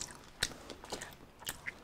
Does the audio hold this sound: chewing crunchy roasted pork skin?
yes